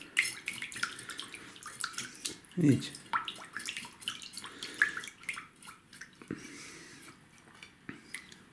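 Water from a washing basin is poured out after tiny fish were scaled and rinsed in it, making a brief splashing gush with scattered drips and handling noises while a person talks.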